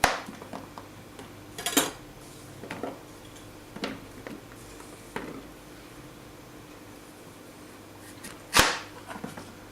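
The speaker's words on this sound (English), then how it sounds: "Next, we're going to cut the zucchini." A knife slices zucchini on a board for couscous, giving sparse, irregular crisp cuts and knocks against quiet room tone, with a couple of louder chops standing out.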